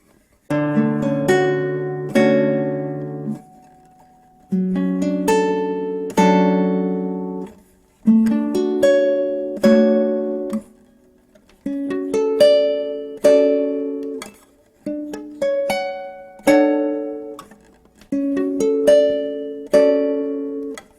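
A guitar strums a sequence of seventh chords, each struck and allowed to ring in short groups, close and clear with brief gaps between phrases.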